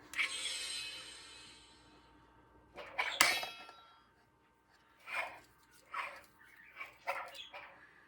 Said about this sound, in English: With some cool sound effects, including the growling of a tiger.